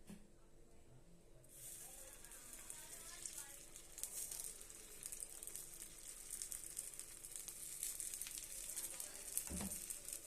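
Kara paniyaram batter poured into a pan of hot ghee, bursting into a loud, continuous close sizzle and hiss that swells after a quiet start, with faint talk underneath.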